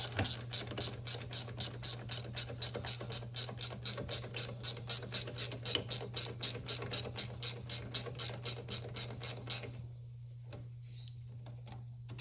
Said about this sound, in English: 14mm wrench, and away we go